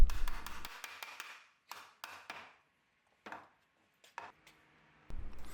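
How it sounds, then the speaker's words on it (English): Wooden mallet tapping a breadboard end onto a table tenon in a woodworking shop, a few sharp knocks in small clusters separated by quiet gaps, close and clear. "Here I am adding the breadboard and just tapping it on with a mallet"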